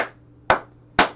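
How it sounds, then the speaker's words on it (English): Three crisp hand claps spaced about half a second apart, close and sharp against a quiet background. "Now we need three claps."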